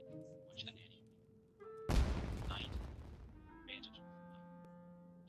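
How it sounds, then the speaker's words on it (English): A sudden booming burst of fireworks in the video game Genshin Impact in Inazuma, with a loud explosive crackle that trails off and faint game chimes and tones around it. "It sounded like fireworks."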